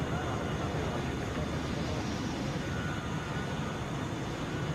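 Broadband roar of an Airbus A320 at Atlanta airport, steady and loud for the whole stretch, with no clear rise or fall.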